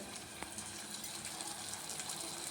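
Meal maker soya chunks boil in water in a pot, giving a soft, continuous bubbling hiss with faint pops and gurgles at close range and no speech.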